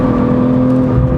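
A 2023 BMW M340i Touring xDrive accelerates, its engine holding a loud, steady droning whir heard from inside the car, with no talking.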